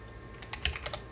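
A handful of quick, light keystrokes on a computer keyboard, tapped out close by in a short irregular burst over faint room hum.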